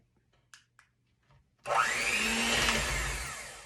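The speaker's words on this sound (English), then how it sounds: "Okay, I finished creaming the margarine." An electric hand mixer whirs to life and runs loudly and steadily, beating margarine and sugar together for lemon loaf batter, after a few soft kitchen clicks and taps.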